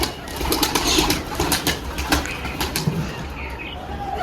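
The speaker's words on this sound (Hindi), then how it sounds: "2 कबूतर उड़े, कौन से उड़े पता नहीं।" Pigeons take off and fly from a rooftop pigeon shelter, a flurry of close, loud wing flaps in quick bursts with faint cooing behind.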